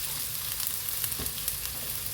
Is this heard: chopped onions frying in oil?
yes